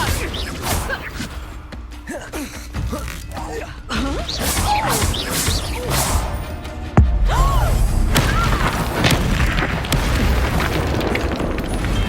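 Confringo spell explosion in Hogwarts Legacy, a heavy boom with a sharp thud partway through amid chaotic combat effects, swooshes and impacts, with voices calling out over the fighting.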